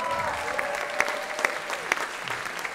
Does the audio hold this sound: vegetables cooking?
no